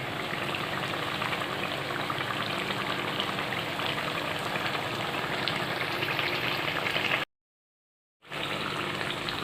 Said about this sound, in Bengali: বেসনের জিনিস একটু ভালো করে লাল লাল করে ভাজতে হবে